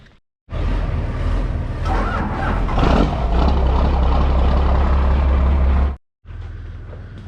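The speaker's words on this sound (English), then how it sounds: "get that truck out here and get that winch off of it" An ex-military Oshkosh M1070 HET 8x8 heavy truck engine rumbles loudly and steadily for several seconds, deep and close, then briefly cuts out before resuming.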